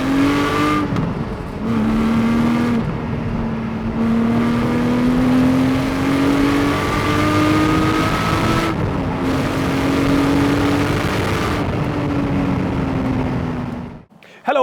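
A Porsche 718 GT4 sports car accelerates hard, its engine note climbing steadily through the gears. The sound is loud and close, with short dips at each shift and a brief cut near the end.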